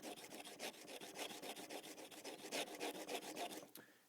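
A drill bit edge is rubbed back and forth on worn 100 grit sandpaper, making a quiet, rhythmic rasping in steady short strokes, close up with no talk.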